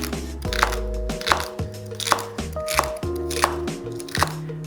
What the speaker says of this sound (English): we're just going to chop up some celery and carrot that we're going to add into our baking dish